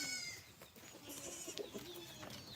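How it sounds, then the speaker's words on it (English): Several roosters crowing at a homestead in the morning, distant and overlapping with other birds and farm animal calls, a steady low background of outdoor noise throughout. "a rooster crowing competition in the background"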